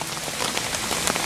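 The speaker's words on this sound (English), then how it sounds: "it's raining" Rain falls steadily on a camp tarp, a dense close patter of drops with no pauses and no voices.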